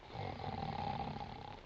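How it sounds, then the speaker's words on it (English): A man snores in one long, low, rasping breath, faint and steady, in an old radio comedy scene, with no talking over it. "never mind snoring"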